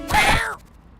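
A cat meows in the YIIK: A Postmodern RPG video game, one loud drawn-out cry that fades after about half a second, heard alone with no talk.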